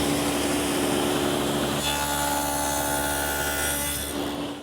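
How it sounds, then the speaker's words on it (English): A table-saw dado blade cuts a rabbet along the edge of half-inch plywood, a loud, close, steady whirring rasp that shifts in tone partway through and tapers off at the end. "Now I'm going to take a piece of 1/2-inch plywood and make a rabbet on all 4 edges"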